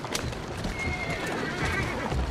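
A horse in the Assassin's Creed Syndicate video game neighs over a dense layer of game ambience, hoofbeats and carriage noise, steady and fairly loud throughout.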